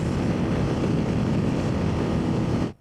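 Zontes T350X motorcycle engine running at speed on the road, a loud steady drone with constant wind rush that cuts off abruptly at the end, no talking.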